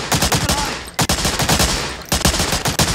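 Heavy gunfire in the World War II shooter Medal of Honor: Allied Assault: dense, loud automatic bursts and overlapping shots fill the whole stretch, with brief dips between volleys and no talking.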